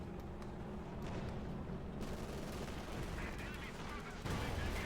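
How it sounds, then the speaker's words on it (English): Anti-tank and machine gun fire in the strategy video game Company of Heroes 2, a steady rattle of rapid shots with a heavier burst near the end, under a continuous battle din. "Shot fired, taking hit from the anti-tank in the east, and machine gun holding up the advancing infantry."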